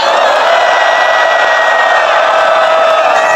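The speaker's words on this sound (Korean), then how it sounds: "큰 환영의 박수를 한번 부탁드리겠습니다" A dense, loud wall of crowd cheering and applause at a Korean political candlelight rally, sustained and even for the whole stretch with no pauses.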